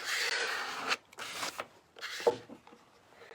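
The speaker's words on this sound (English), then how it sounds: "I just use a plastic scraper and smooth it out." A plastic scraper smoothing a clay surface for a DIY wedding gift, heard as several close, raspy rubbing strokes separated by short pauses, quiet and with no talking.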